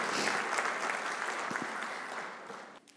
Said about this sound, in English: Let's have a big round of applause for Oksana.